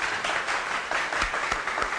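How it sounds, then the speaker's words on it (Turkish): A small group applauds briefly in a comedy-show setting, with a dense, steady patter of hand claps at moderate distance and no talk. "Tutacaktın tabii bir alkış alalım."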